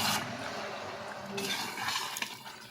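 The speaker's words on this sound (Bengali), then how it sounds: "এবার আবার ঢাকা খুলে মাংসটা একটু নেড়ে দিন" Meat is stirred in a pot on a clay stove, making quiet scraping and a few soft clinks of utensil against the pot over a faint, continuous wet bubbling.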